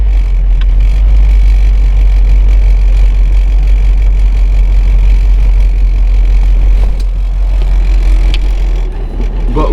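A 1977 Toyota Celica engine runs loud and steady as the old car drives, a continuous low rumble filling the whole stretch with no speech over it.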